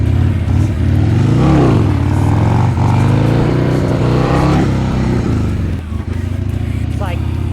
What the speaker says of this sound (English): when you do a wheelie on a stock bike is dump the clutch